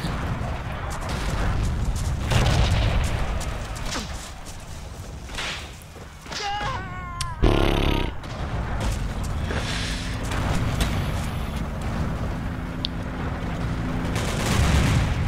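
Bomb blasts and scattered gunfire from Forgotten Hope 2, a World War II shooter set at the St Lo Breakthrough, with a loud booming burst partway through amid dense battle noise.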